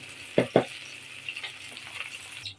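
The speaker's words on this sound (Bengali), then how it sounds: "প্রথমে আমি আলুগুলা ভেজে নিব সামান্য একটু লবণ এবং সামান্য একটু হলুদের গুঁড়া দিয়ে" Potatoes frying in oil with a little salt and turmeric: a steady, soft sizzling hiss runs throughout, with two sharp knocks near the start and a few lighter clinks later.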